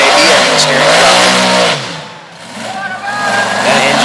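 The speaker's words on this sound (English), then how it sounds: "That engine sounds a little bit rough." A monster truck engine running rough during a night show on a narrow track in Manassas, Virginia, loud and close, with an uneven revving roar that dips sharply midway and then builds again, under an announcer's voice.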